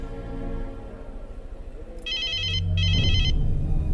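A telephone rings in two short electronic bursts, loud and close, over a low background hum.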